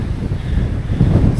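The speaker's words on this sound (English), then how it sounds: "It's getting a bit windy." Wind gusting across an exposed mountain route in cool air, a steady low rumble buffeting the microphone throughout and swelling louder toward the end, with no talking.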